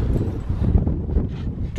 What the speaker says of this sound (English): God, it's got windy. It's got really windy.